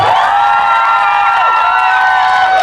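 A packed cinema audience at a stage greeting for a Detective Conan film at Lotte Cinema Hongdae erupts in loud, sustained cheering and high-pitched shouts, with clapping mixed into the roar.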